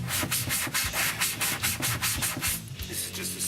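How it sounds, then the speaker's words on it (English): Steady back-and-forth scraping of a hardware-store sanding block across a Hobie Pro Angler kayak hull, a quick regular rhythm of abrasive rubs, close up with no talking. "This is just a sanding block purchased from the hardware store."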